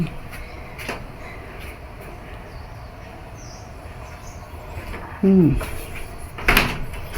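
A door is opened during a walk through a garden, giving a short creak and thump near the end amid quiet background ambience, with people talking.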